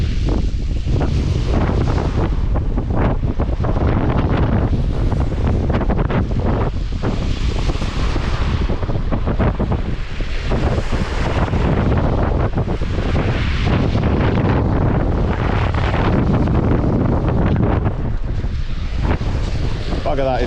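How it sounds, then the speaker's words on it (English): Strong wind blows across a sandy beach by an estuary, a loud, constant roar buffeting the microphone for the whole stretch, with surf and a faint voice buried underneath. "that is windy"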